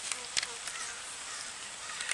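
Honeybees taken from a tree hum around a hive being fed, a faint, steady high buzz with a few small ticks and bumps across the short stretch.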